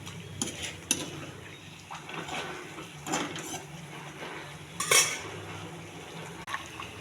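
Eggplant goes into a curry gravy with peas and is stirred, giving intermittent metallic scrapes and clinks of a spoon in the pan, with one sharp clatter in the middle, close by and fairly quiet.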